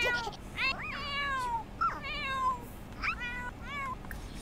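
Several rising and falling cat meows from the farming video game Let's Get Growing, each call a clear, bright whine with short pauses between, heard alone at moderate loudness over a faint background hum.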